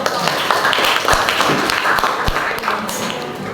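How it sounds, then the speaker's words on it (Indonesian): Students in a classroom clap together in a brief round of applause, a busy patter of hand claps mixed with a few sharper taps and thuds, moderately loud and close. "tepuk tangan dulu"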